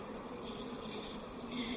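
A dense, steady drone of many honeybees buzzing close by at a hive, a constant humming swarm with no pauses.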